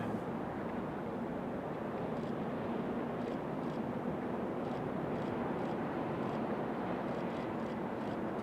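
A JetBlue airliner lands in gusty wind at Raleigh-Durham airport, a distant, steady engine rumble with wind buffeting the microphone, fairly quiet and continuous.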